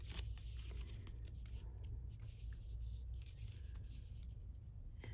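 Soft riffling and papery scraping as pages of a small handmade junk journal are flipped, mixing vellum, textbook sheets and thick paper, quiet and close over a low background hum, no talk.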